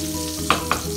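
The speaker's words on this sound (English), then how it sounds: "let them fry for a while" Pointed gourd (parwal) pieces with salt fry steadily in a pan, a continuous sizzle broken by two sharp clinks of a stirring utensil against the pan near the end.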